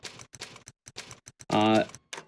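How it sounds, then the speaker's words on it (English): Rapid, crisp keystrokes on a computer keyboard during a live speedrun of the game Haunting Ground, clicking in quick bursts with a brief voice sound partway through. "you're going to notice I'm typing really, really fast"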